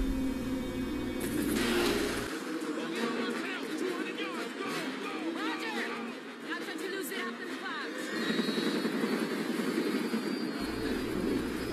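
Jet airplane noise from the film Reign of Fire, a steady broadband roar of engines and wind filling the whole stretch, with a deep rumble at the start and end and voices talking over it.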